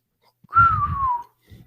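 A person whistles a single close, clear note of about half a second that slides gently downward. Soft breathy noise sits beneath it, and a brief faint sound follows.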